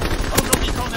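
Shotgun fire in a Call of Duty multiplayer match: two sharp blasts cut through dense game noise, close and loud, with a brief burst of speech underneath.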